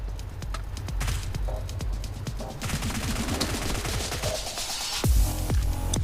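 UMP9 submachine gun fire in the video game PUBG comes as rapid bursts of sharp shots in quick succession. The shots run near and loud, and a heavier thump lands near the end.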